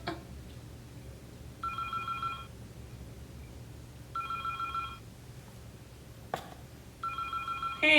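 A telephone rings three times in a short film, each bright, warbling burst lasting about a second and spaced a few seconds apart over a low background rumble, with a sharp click between the second and third rings.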